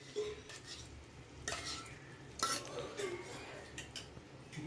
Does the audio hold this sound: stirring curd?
yes